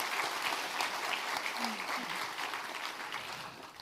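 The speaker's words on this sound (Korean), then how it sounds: "우리 격려의 박수 한번 해주시면." Church congregation applauding during a Korean Sunday morning service, a dense, even round of clapping that carries on steadily and eases off slightly.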